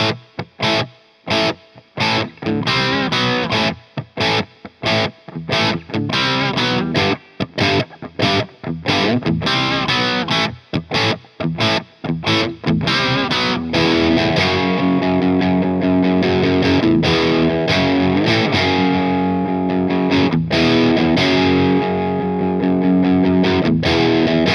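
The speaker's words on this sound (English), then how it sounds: "put it on the crunch setting" An electric guitar played through a Boss Katana 100 amp on its crunch setting gives loud, distorted playing: choppy stabs and short riffs at first, then sustained ringing chords, with no voices.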